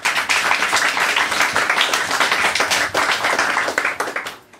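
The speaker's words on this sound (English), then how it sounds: "so more applause please." Live audience applause after a singer's set at an intimate music night, a dense wash of many hands clapping steadily and loudly throughout before cutting off sharply at the end.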